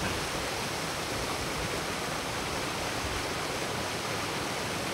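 Small mountain stream flowing on the climb toward Mont Gosford, a dense, steady rushing hiss of water heard close and alone, even in loudness from start to finish.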